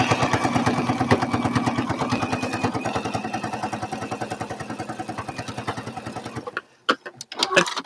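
Domestic sewing machine running steadily while stitching quilt appliqué pieces, a rapid even needle rhythm close to the microphone for several seconds, then stopping with a few short restarts and clicks.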